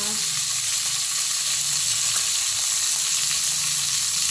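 Chicken browns in a hot pan with a dense, continuous sizzle and crackle, steady and close, with faint stirring underneath.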